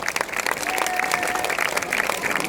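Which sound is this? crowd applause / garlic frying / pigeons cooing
crowd applause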